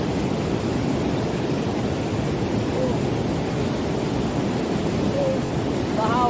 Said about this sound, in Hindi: बहाव बहुत ज़्यादा है और पानी भी ठंडा है दोस्तों